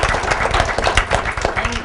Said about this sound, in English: So I want to give a big round of applause to our panelists.